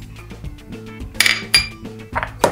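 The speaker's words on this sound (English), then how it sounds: "Now I'm adding the last ingredients, flour, vanilla, less than a teaspoon of salt" Clinks and taps of a spoon against a metal bowl and dishes as flour, vanilla and salt are added to brownie batter, a few sharp metallic chinks over a quiet kitchen background.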